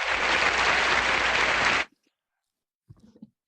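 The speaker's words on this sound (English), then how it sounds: "I'm going to give you a round of applause." A loud, dense round of applause from many hands that stops abruptly, followed by near silence and a few faint, brief knocks.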